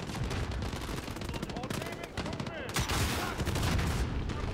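Rapid automatic gunfire in the video game Modern Warfare, dense bursts of shots crackling almost continuously, getting louder and heavier toward the end, with a voice talking faintly underneath.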